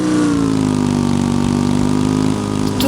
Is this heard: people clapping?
no